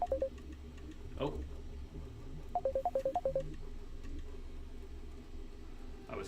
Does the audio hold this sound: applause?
no